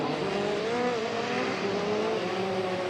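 Euroformula race cars running at the Jerez circuit in Spain, a continuous loud engine drone with a wavering pitch as the pack heads around, no speech.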